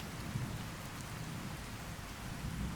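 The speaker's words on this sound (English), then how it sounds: "I just slept in the rain." A steady hiss of heavy rain with low rumbling thunder underneath plays in the game Fallout: New Vegas, continuous and even, with no voices.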